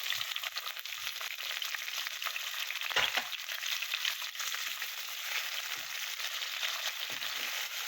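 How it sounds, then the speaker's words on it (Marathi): Chopped tomatoes sauté in oil with softened onions in a pan, a steady close hiss of frying throughout, with a brief stir clatter around the middle and a few soft knocks. "टोमॅटो पण चांगला परतून घ्यायचा आहे।"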